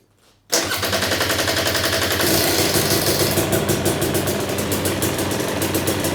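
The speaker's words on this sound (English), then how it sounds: "you can test it by starting the engine" After a moment of quiet, a 2020 KTM/Husqvarna TPI motorcycle engine fires up abruptly and settles into a loud, steady, rapid-pulsing idle.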